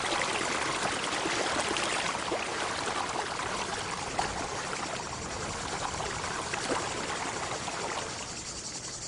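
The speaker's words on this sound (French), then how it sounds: "L'eau coule partout." Water flowing steadily from ancient Roman fountains at Timgad, a constant hissing trickle with a faint high insect-like chirr, even and unbroken throughout.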